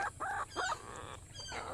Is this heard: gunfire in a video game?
no